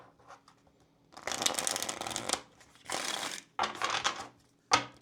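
Tarot cards being shuffled close up in several long riffling bursts separated by short pauses, ending with a brief final snap of cards, without any talking.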